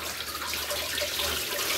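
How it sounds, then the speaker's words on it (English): Steaming hot water pours steadily from a container over the pulleys in the engine bay of a Ford Focus during water pump work, a continuous splashing rush that stays close and fairly even. "I'm just using this to pour it over all the pulleys"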